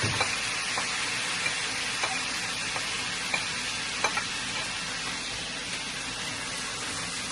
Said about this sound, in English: I put in the garlic and let it fry up good. I'm going to put in the spring onions.